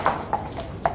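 Horse hooves clip-clop on stones inside a tunnel, three sharp echoing strikes spaced unevenly across a second, fairly close and heard alone.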